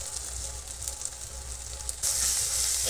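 Chili, turmeric, cumin and coriander powders sizzle in hot oil in a pan for a lotiya fish dish. The frying hiss is steady and close, then swells suddenly louder and brighter near the end.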